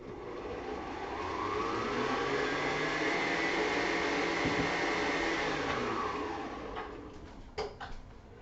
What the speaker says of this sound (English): I want to turn the mixer on while I do that